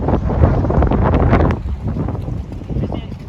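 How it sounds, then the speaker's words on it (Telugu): Strong outdoor wind rumbles and buffets the microphone in loud, continuous gusts that ease slightly partway through. "చూడండి ఒకసారి గాలి ఎలా వస్తుంది."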